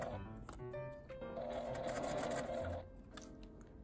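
A sewing machine runs steadily, stitching around the curve of a small fabric pouch with brief pauses at the start and end, the motor hum close and moderately quiet with no talking.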